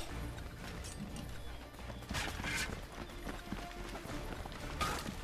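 In Assassin's Creed III Remastered, hooves clatter in a quick galloping rhythm amid rushing, crashing game noise, moderately loud with no clear talking.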